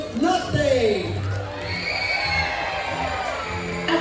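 Crowd cheering and whooping at a school celebration, a broad roar of voices rising near and loud for the full few seconds with shouts on top.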